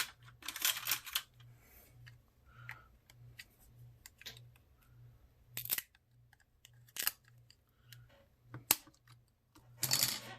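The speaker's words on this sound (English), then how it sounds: "we'll go ahead and peel off this metal plate" A thin metal plate peeled off a Motorola Razr V3 phone gives scattered crackling bursts and small ticks and clicks, close and fairly quiet, over a steady low hum.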